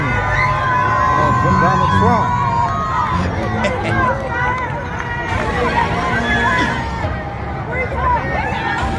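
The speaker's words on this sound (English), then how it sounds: "Free Trump is what they're cheering." Dense street crowd in Atlanta cheering and shouting "Free Trump," a loud, continuous roar of many voices and chatter close by, with rising and falling bursts of yelling across the whole stretch.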